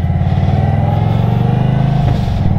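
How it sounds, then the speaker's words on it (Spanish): Indian Sport Chief cruiser motorcycle engine revving loudly up close, a steady deep throbbing rumble with no talk, dipping briefly near the end before settling back. "Oigan el motor, hombre, ruge pero con ganas."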